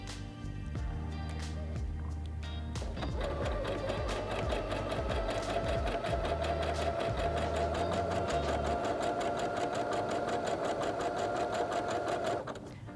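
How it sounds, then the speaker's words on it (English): A Singer Heavy Duty 6800C sewing machine sews a zigzag stitch, its motor whirring steadily with a rapid mechanical needle rhythm that runs loud and close for most of the stretch after a brief start-up. "I go directly to zigzag stitch"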